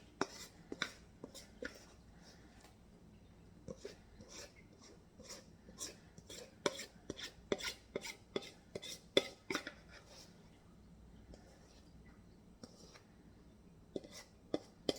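Cornbread batter, jalapeño and cheese, scraped from a bowl into a greased baking dish: soft, close clinks and scrapes of a utensil in irregular bursts over near silence.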